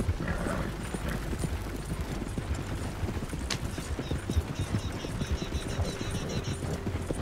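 Horse hooves clip-clopping at a steady gallop in the video game Red Dead Redemption 2, continuous and fairly loud, with faint ambient game sounds and no talk.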